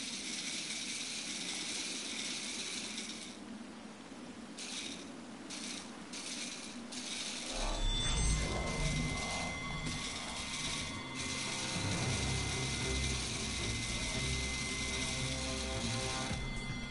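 A fishing reel ratchet clicks and rattles in Final Fantasy XV over a background game music bed, with the mechanical ticking growing busier and louder partway through.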